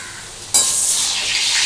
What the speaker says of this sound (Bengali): বন্ধুরা দেখো, আমার আলুগুলো খুব সুন্দর করে